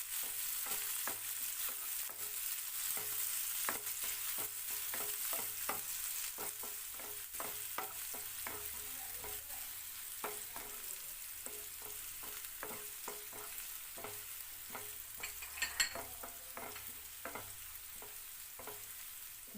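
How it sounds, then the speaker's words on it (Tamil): Chopped onion, garlic and green chilli sautéing in a pan, with a steady sizzle and repeated stirring clicks and scrapes throughout. "ஒரு பெரிய வெங்காயத்தை கட் பண்ணி சேர்த்துக்கோங்க. 1 நிமிஷம் நல்லா வதக்கி விட்டுருங்க."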